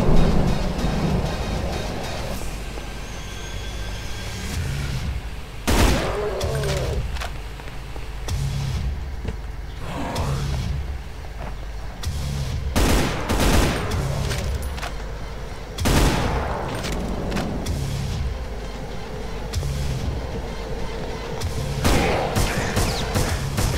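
Gunfire in Brutal Doom Extermination Day rings out in sharp, loud bursts every few seconds over a steady rumbling ambience, with shots often coming in quick pairs.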